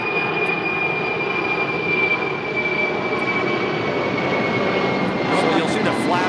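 A Boeing 747 airliner takes off at Los Angeles airport with a loud, continuous engine roar and a sustained high turbine whine, surging slightly, as people talk over it.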